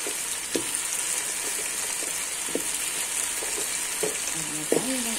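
Carrots and other vegetables frying in a pan, giving a steady close sizzle with occasional clinks and scrapes of stirring.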